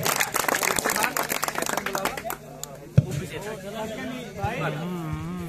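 A crowd claps loudly and densely at a volleyball final prize presentation for about two seconds. The applause then dies away and someone speaks over a microphone.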